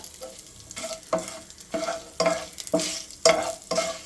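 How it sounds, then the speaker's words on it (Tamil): Curry leaves and dried chillies hit hot oil for a chicken curry, crackling in uneven bursts with stirring between them, close and fairly quiet. "அதோட 2 கருவேப்பிலை போட்டுக்கோங்க"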